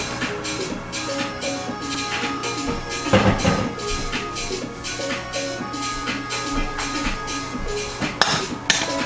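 A frying pan and other cookware handled on a home kitchen counter next to a cutting board, giving close metallic clinks and knocks with a louder clatter near the middle and more clinks near the end.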